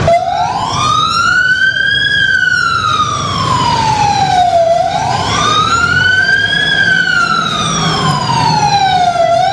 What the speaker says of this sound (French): la recrudescence des accidents fait siffler la sirène de secours